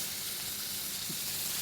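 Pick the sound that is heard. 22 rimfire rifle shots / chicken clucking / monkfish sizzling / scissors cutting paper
monkfish sizzling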